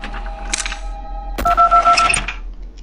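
Phone dialing in the game Five Nights at Candy's 2: a few keypad tones and a steady hum, then a clunk followed by a fast sequence of clean electronic dial beeps, close and fairly loud, with no voices.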